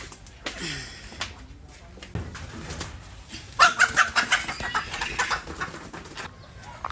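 Birdlike clucks and squawks from a village rooster, fairly close, coming in a busy burst in the second half over faint background noise.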